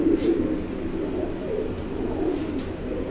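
Ali Wala breed pigeon on a rooftop loft cooing softly and repeatedly, low murmuring calls over steady ambient noise, close but quiet.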